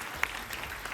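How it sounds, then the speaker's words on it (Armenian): Studio audience applause at an Armenian television entertainment show, a short steady burst of clapping filling the room, with no talk over it. "Այս ծափահարությունները ձերն են"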